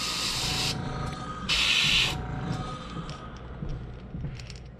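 An airbrush sprays paint onto a yellow perch in short bursts, a close hissing spray that starts and stops twice against a quiet room background.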